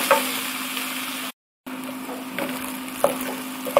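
Calabresa sausage, onion and garlic browning in a pan, a soft steady sizzle with a few light pops and stirring scrapes, briefly cut by a silent gap.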